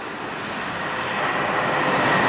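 Train at Rugeley Trent Valley railway station, a steady broadband rumble that swells slightly louder over the short stretch, with no talk.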